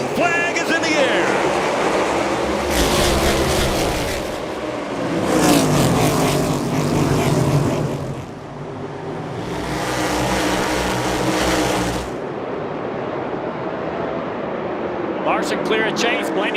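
NASCAR race cars at Martinsville Speedway take the green flag start, the pack roaring past in loud successive waves of engine noise that swell and fade, with a commentator talking over it.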